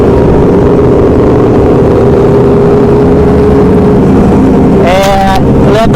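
A Kawasaki ZX25R motorcycle revs on a Lampung street, its engine a steady loud drone that climbs into sharp high-pitched rev bursts near the end, with wind buffeting throughout.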